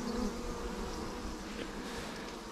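Honey bees buzzing densely and continuously at a busy hive, a close, steady hum that fills the whole moment.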